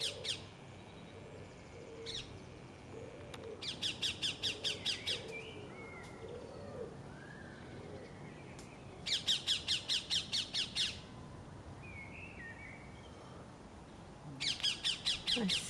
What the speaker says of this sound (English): Magpie's trying to chase him away.